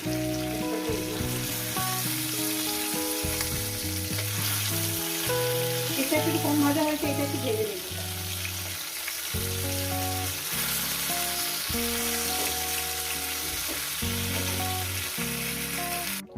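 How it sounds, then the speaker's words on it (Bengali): Pabda fish fry and sizzle in a pan, a steady soft hiss running under music that plays throughout. "এই মাছগুলো আমার ভাজা হয়ে গেছে এগুলো তুলে তুলে নেব"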